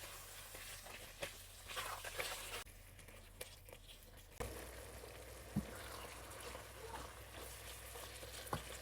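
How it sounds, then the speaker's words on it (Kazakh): Marinated meat frying in heated vegetable oil in a pan for a momo-style dish: a soft, steady sizzle with occasional sharp clicks and scrapes of stirring, quiet and close. "Үстінен маринадталған етімізді салып, жақсылап қуыруымыз қажет."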